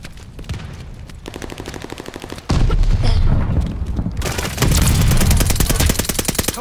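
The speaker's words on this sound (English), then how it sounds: "Throwing grenade." Grenade blast and heavy gunfire in Call of Duty Vanguard: rapid automatic bursts give way to a loud explosive boom, then dense sustained firing continues at close range with no talking.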